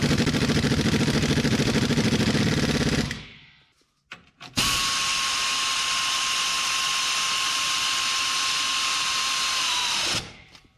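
A power tool drives bolts into a car subframe, with two long steady whirring runs separated by a brief pause, the second run loud and sustained with a constant high whine until it cuts off.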